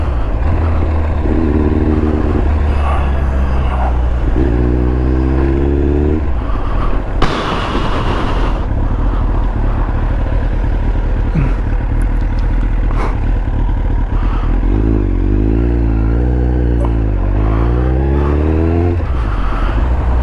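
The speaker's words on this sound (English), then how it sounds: "Just a gentle squeeze of the throttle, because as I say, it's the first and second gear in this, it can accelerate rapidly." A Kawasaki Ninja ZX-9R motorcycle on a coastal road, its engine rising in pitch through repeated accelerations in low gears, with gear changes between climbing revs over constant loud wind and road noise.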